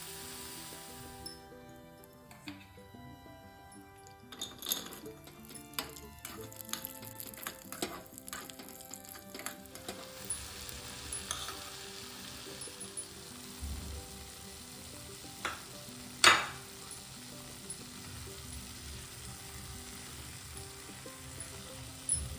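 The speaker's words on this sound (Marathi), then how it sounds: "तर आपण आता ड्रायफ्रूट्स फ्राय करून घेणार आहोत मग त्यात टाकू" Dry fruits frying in ghee in a pan for gajar halwa, a steady close sizzle with occasional scraping stirs and a few sharper clinks from a spoon against the metal.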